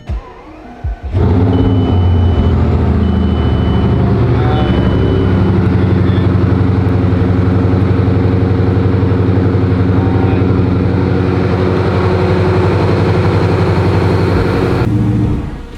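A Bugatti Veyron engine fires up after a brief quiet moment, then settles into a steady, loud, deep idle that holds evenly for about fourteen seconds before cutting off; no one speaks over it.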